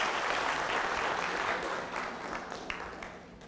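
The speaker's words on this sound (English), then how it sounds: "So a big round of applause to CA Ravi Chauhan for his excellent present" Audience applause after a corporate presentation on IFRS updates at an accountants' session in Abu Dhabi, a dense burst of clapping that starts full and gradually thins out over a few seconds.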